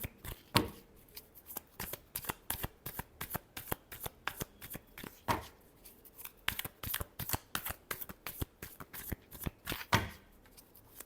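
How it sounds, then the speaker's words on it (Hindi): A deck of cards is shuffled repeatedly up close, giving rapid rhythmic riffling bursts separated by brief pauses, crisp and fairly quiet, with no talking. "Last shuffle."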